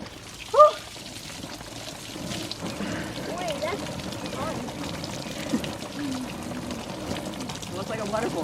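Water pours out of a rain barrel in a steady splashing flow, joined by a short sharp clatter near the start, while people talk over it throughout.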